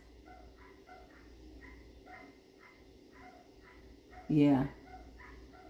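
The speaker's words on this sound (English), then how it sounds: "You hear the dogs?" Dogs bark in a distant, repeated series of faint yips and whimpers, and then one louder, closer bark briefly cuts through. A person talks quietly over them.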